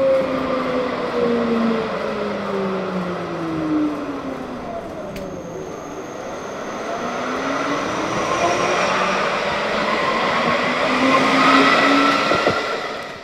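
A Poznań Fast Tram in motion, with a steady rolling rumble under traction-motor whines that glide up and down as the tram speeds up and slows, heard close from inside the car.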